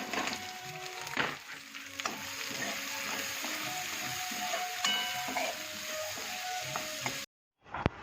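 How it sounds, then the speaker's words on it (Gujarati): Chopped onions fry in a pan with a moderate sizzle, broken by scattered clinks and scraping stirs, before the sound cuts out abruptly near the end. "ડુંગળી સમારેલી નાખીશું."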